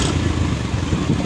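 A Yamaha motorcycle rides along at night, its engine a loud, steady low rumble close by, with no speech over it.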